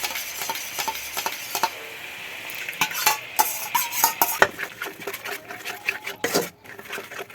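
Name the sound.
stirring yogurt into katla fish curry in pan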